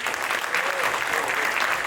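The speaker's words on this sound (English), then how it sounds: "Can we have a round of applause for him?" Audience applause at an entrepreneurship talk, a steady dense patter of many hands clapping throughout, fairly close and full, with no voices over it.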